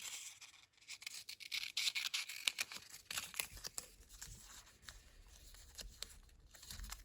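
Scissors cutting a strip off a sheet of labels for acrylic markers, quiet close snips, rustles and crinkles of the paper in an uneven rhythm, with no talking.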